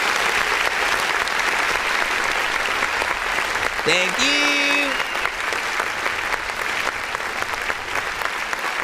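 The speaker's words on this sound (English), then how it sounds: "Let's give you guys a round of applause." Steady applause and cheering from an audience at a live music review show, continuous and dense throughout, with a voice speaking briefly over it midway.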